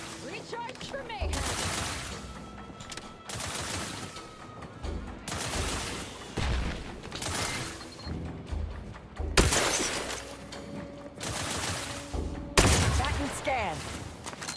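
Gunfire in The Outer Worlds 2 as loud bursts of automatic shots and sharp impacts come in repeated clusters, some with a shattering crash, between stretches of quieter game ambience and a voice speaking.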